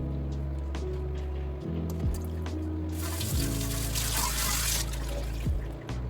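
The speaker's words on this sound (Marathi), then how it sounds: "अजून 2दा ही कोथिंबीर स्वच्छ पाण्याने धुवून काढणार आहे." Fresh coriander leaves are rinsed in clean water, with trickling and splashing that swells into a louder rush of running water midway, over a low steady hum with occasional pitch swoops.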